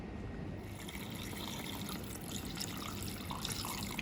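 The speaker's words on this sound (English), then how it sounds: "Now I'm going to cover all the ingredients with cold water." Cold water pours from a tap over chicken stock ingredients (a French marmite) in a pot, a steady trickling splash running continuously at moderate level without speech.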